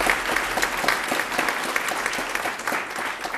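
Loud, dense applause from a large audience at an Iftar dinner hosted by President Obama, sustained evenly throughout with a full, close wash of clapping.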